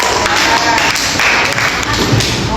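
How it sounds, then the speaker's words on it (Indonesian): Pupils in a classroom break into a short round of clapping for a classmate, a dense patter of hand claps close by that runs steadily through the moment. "Tepuk tangan untuk Ali."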